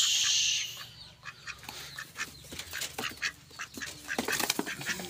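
Male and female ducks quack repeatedly at close range in short, uneven bursts, with a brief high hiss at the very start and no talking.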